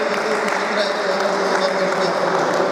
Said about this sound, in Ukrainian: Ще раз оплески призерам та переможцям